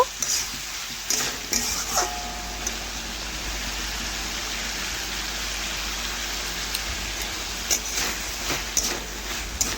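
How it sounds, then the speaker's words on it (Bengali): Mixed vegetables, cooked with fish roe, frying in a pan: a constant rain-like hiss of oil with scattered scraping clatters as the pieces are stirred, loudest near the start and end. "সবজি ভালোভাবে ভাজা হয়ে গেলেই আমি পরিমাণ মতো এখানে জল দেব।"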